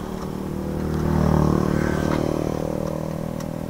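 A motorcycle engine turns over and catches, its low rumble building steadily and settling into a close, continuous running hum.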